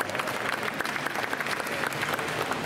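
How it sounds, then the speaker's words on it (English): Press conference attendees applaud boxing Hall of Famer Christy in a continuous, even round of clapping from a modest crowd. "Let's give Christy a huge round of applause."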